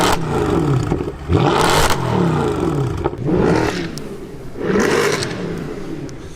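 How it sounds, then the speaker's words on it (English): A Mercedes C63 AMG V8 revs hard three times in a row, each loud roaring burst climbing and falling back to a rumbling idle, close by with no talking. "the whole bloody planet wobbles when you rev up the engine on this car"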